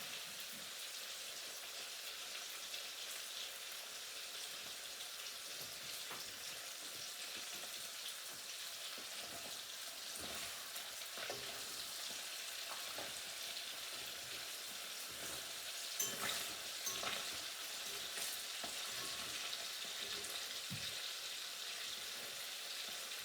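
Fish frying in a pan for Easter produce a steady, dense crackling sizzle, close and continuous throughout with faint scattered pops and a slight swell midway.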